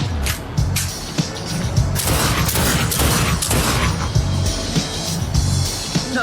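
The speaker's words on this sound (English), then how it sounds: "Nice shooting, Tex." Gunfire in The Darkness II, repeated loud shots and booming blasts in quick irregular bursts over a dense rumbling background, close and continuous with no clear talking.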